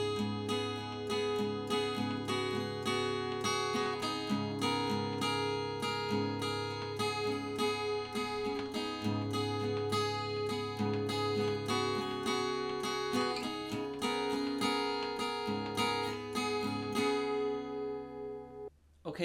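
Acoustic guitar plays the intro of a song, a strummed and picked pattern with steady rhythm, close and clear, ringing out at the end with no talk over it.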